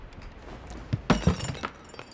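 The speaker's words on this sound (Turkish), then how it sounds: "Ne dokunuyorsun o çatlıyor kırılıyor lan." A glass vase shatters in the game Crime Scene Cleaner: a sharp, close crash with a quick scatter of tinkling shards that fades within a second.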